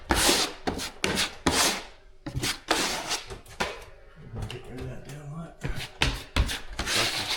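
Drywall joint compound is spread with a taping knife in repeated scraping, rubbing strokes, close and fairly loud, with brief pauses and some faint voice in the background.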